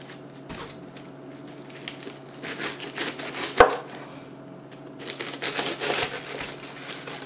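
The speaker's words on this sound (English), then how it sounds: "now I'm going to go ahead and chop up a little lettuce here to add in there" A knife chops through head lettuce on a board in quick, crisp repeated strokes, with close, crunchy cuts coming in uneven bursts over a faint background hum.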